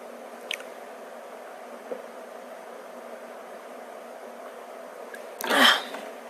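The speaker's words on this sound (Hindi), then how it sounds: "एक मिनट रुकना यार, बहुत खांसी आ रही" One short, harsh cough bursts out near the end of a quiet indoor stretch, with only a couple of faint clicks before it and no speech.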